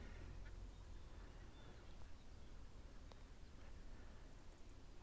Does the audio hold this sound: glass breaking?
no